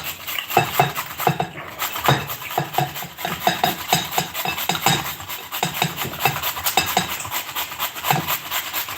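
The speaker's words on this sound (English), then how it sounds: "Turn the carrot around as you're grating it so it doesn't bunch up like it just did." A carrot is rubbed against a grater in quick, rhythmic rasping strokes, close and steady, with no talking.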